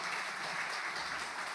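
Steady, dense applause fills a church sanctuary during Sunday worship, a full congregation clapping continuously at even volume throughout.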